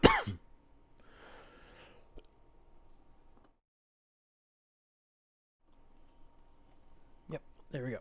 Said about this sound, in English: Gets a sip of water to clear his throat, and then almost chokes on water.